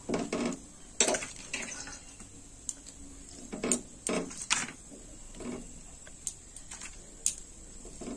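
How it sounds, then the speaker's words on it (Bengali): Shredded cabbage tumbles into a pan for Bengali poppy-seed cabbage curry, giving a series of close clattering knocks and rustling bursts with quieter gaps between them and no talking. "এবার বাঁধাকপিগুলো সব দিয়ে দেবো।"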